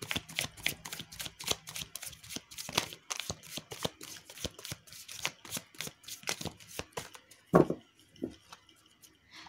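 Tarot cards are shuffled by hand in a quiet room, a steady run of soft riffling slaps and flicks, close but faint, ending with a couple of sharper taps as the deck is set down.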